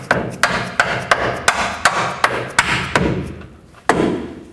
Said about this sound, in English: You can use a rubber mallet to guide it into place.